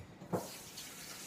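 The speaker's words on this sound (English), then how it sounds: "we're going to go ahead and rinse these off real quick" Tap water runs in a kitchen sink as items are rinsed while making handmade Alfredo, a soft steady hiss with one brief splashy bump near the start, faint throughout.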